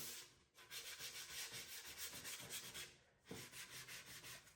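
Sandpaper rubs over a dried sealer coat on a thrift store chest in steady, close back-and-forth strokes, pausing briefly twice. No one speaks.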